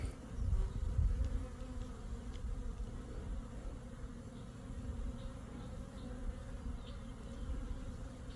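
Honey bees buzz steadily around a five-frame nucleus hive being installed, a dense low droning swarm that stays fairly constant throughout with no voices.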